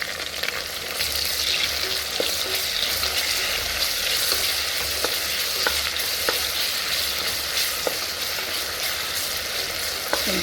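Chopped vegetables with ginger-garlic paste and tomato frying in a pan for vegetable pulao, a constant close sizzle broken by regular clicks and scrapes of stirring.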